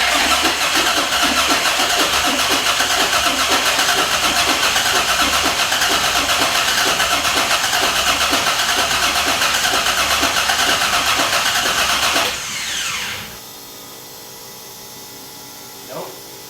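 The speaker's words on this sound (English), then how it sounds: "it was time to crank over the LS1 for the first time" LS1 V8 in a VH Holden cranking on the starter, a loud steady mechanical churn that runs for about twelve seconds without catching, then cuts off abruptly into a quiet hum.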